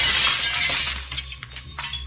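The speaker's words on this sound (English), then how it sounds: "I could hear in great detail the sound of shattering glass echoing through the house" Glass in a house door shatters with a loud crash and a spray of bright breaking shards, followed by scattered tinkling pieces falling over about two seconds, with no voices.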